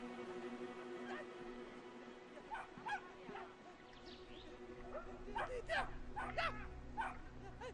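A little dog yaps in Brothers: A Tale of Two Sons, scattered short barks and yips rising over a steady game soundtrack while someone comments throughout.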